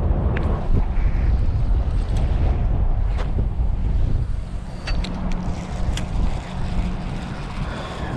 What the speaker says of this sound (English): The wind almost blew me in there.